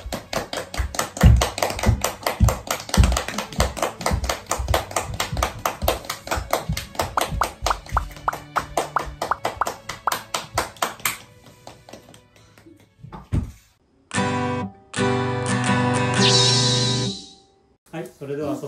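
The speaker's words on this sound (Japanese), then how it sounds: "卒業生と卒入生退場を拍手でお迎えください。" Rhythmic clapping from a crowd at a Japanese graduation ceremony as graduates and students walk out, steady and close for about eleven seconds before fading, followed by a few bursts of louder, different sound.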